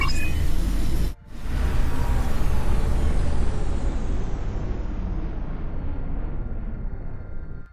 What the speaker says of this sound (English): That is the sound of the shield powering down.